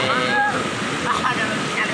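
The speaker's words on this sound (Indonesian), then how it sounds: "Mari sama-sama kita lihat bagaimana keseruan anak-anak mandi di sungai" Children bathe and splash in a river, the rushing, gurgling water mixed with occasional splashes and faint voices in the background.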